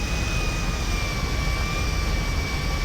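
A plane in a video game, flying through rainy weather, gives a steady, loud jet engine drone with a sustained whine on top, unbroken throughout and with no voices.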